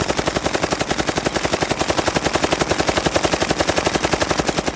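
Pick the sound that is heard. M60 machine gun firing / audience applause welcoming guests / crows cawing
M60 machine gun firing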